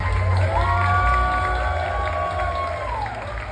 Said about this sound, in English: People are clapping for this.